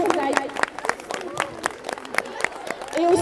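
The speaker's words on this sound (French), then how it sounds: "On applaudit pour Daiko." A crowd applauds a police dog demonstration, with claps blending into a steady patter, with voices murmuring faintly beneath.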